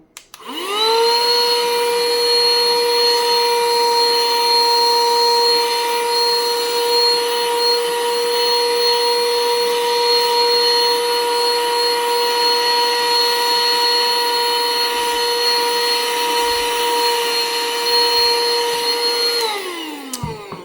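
Xiaomi handheld car vacuum cleaner, bought cheaply, switches on and runs with a loud, steady high-pitched motor whine for about twenty seconds, then spins down at the end. Nobody speaks.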